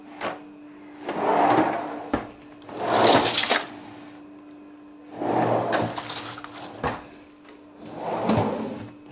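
Large, deep drawers in a modern aluminium-clad kitchen slide open and shut four times in a row, each a loud rolling rumble ending in a sharp knock, close and clear with no talking.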